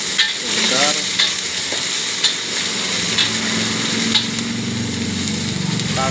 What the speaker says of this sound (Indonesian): masukkan bumbu yang tadi, kita tumis sebentar.